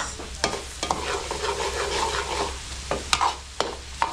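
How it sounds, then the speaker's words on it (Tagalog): Garlic and onion sauté in a pan, sizzling steadily up close, with a utensil scraping and knocking the pan at irregular moments. "mapupulay ko lang yung bawang sibuyas natin"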